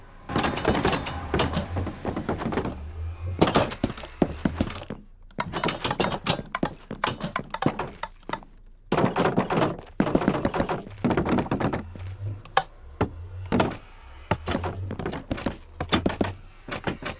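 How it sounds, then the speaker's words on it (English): Minecraft Bedrock Edition trapdoors, doors, fence gates and buttons being used in quick succession, giving clustered wooden and metallic clacks, thunks and clicks in rapid bursts with short pauses between groups. "Every single trapdoor, fence gate, door, pressure plate, button, and lever on Minecraft Bedrock now has unique sounds that match Java Edition and Console Edition."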